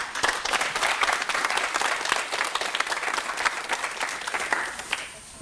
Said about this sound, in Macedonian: а наше е да ги охрабриме со силен аплауз